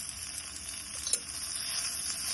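Chicken frying in a pan for red chilli chicken, a steady bright hiss of sizzling oil held close and even throughout, with one small pop partway through and no talk.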